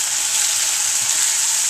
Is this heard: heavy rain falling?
no